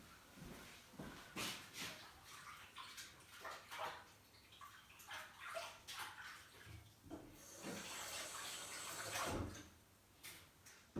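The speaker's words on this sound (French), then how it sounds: "Je vais juste me rincer les mains." Water runs from a kitchen tap as hands are rinsed beneath it, a close, steady splashing stream with uneven surges and spatters throughout.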